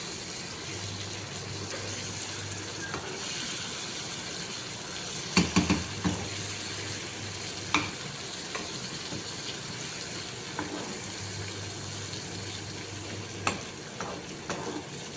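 Dried fish and egg curry cooking in a pan, a steady low sizzle and simmer with occasional clinks and scrapes of a utensil against the pan.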